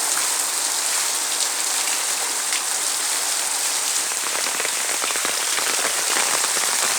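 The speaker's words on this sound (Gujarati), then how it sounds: "કેટલો અતિ ભારે વરસાદ પડી રહ્યો છે." Dense, very heavy rain without wind or lightning, pouring steadily onto surfaces, a constant loud hiss with no voices.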